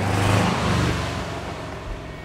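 A Subaru-swapped 1983 Volkswagen Vanagon Westfalia camper engine runs steadily, a smooth low rumble close by, slightly louder at the start then settling into an even idle, with no talk.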